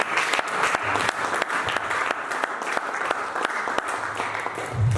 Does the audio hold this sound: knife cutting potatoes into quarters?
no